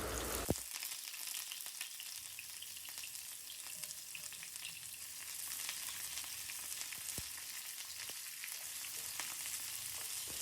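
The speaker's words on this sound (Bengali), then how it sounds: "তো এইখানে পেঁয়াজটা আমি লাল লাল করে ভাজবো না পেঁয়াজটা জাস্ট নরম হয়ে আসবে" Chopped onion frying in hot oil with dry red chilli, bay leaf and whole garam masala for chicken curry, a steady close sizzle with faint stirring scrapes throughout, no voices.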